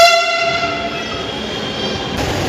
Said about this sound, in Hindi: मेट्रो भी सामने ठीक आ गई